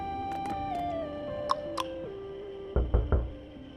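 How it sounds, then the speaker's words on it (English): Three quick, hollow knocks on a door sound in Honkai Impact 3rd, closely spaced and moderately loud, following sparse tinkling music with a few soft clicks. "Knock knock."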